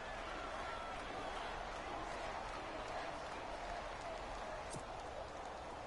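Stadium crowd cheering in a PS4 football video game ahead of a big third down, a steady loud roar of applause and noise throughout with commentary voices underneath.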